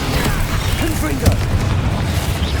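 A Confringo spell bursts in the Hogwarts Legacy video game as a short, sharp booming blast midway through, set among other clattering spell effects and a shouted voice.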